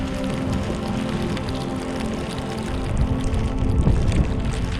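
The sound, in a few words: hail falling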